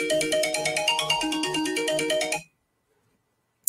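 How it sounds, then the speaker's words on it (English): A phone ringtone from an incoming call plays a bright repeating melodic pattern for about two and a half seconds, then cuts off abruptly into silence, followed by a brief click. "I just got a phone call."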